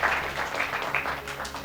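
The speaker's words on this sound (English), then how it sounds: "Let's clap for ourselves." A group of young trainees at an entrepreneurship workshop clapping for themselves, a dense, steady patter of many hands filling the room without a break.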